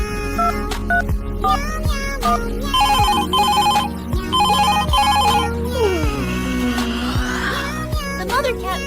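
A cartoon telephone rings in repeated bright electronic bursts, loud and close, mixed with playful musical tones and a sliding whistle-like sweep near the end.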